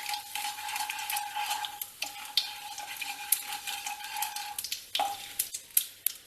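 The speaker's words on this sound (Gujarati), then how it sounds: "તેલ ગરમ થઈ ગયું છે તો તેમાં અડધી ટીસ્પૂન રાઈ ઉમેરશું, અડધી ટીસ્પૂન જીરું ઉમેરી દેવાનું છે." Mustard seeds, cumin and asafoetida tempering in hot oil for Kathiyawadi dahi vadi, with a close, steady sizzle, rapid spitting crackles and repeated scraping and clinking of a spoon stirring the pan.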